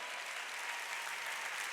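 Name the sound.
congregation clapping in church service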